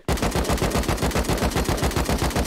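Loud, rapid automatic fire from an AK47 rifle in the video game Rust, a steady stream of closely spaced shots for a couple of seconds, alone with no talk.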